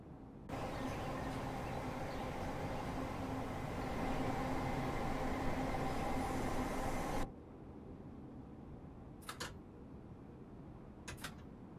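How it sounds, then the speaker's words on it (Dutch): Steady broadband rumble and hiss of a moving train on a journey from Willesden to Tonbridge fills the first seven seconds, then drops away to quiet with a few faint ticks. "Ik rij in een trein."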